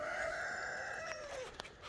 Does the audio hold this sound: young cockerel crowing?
yes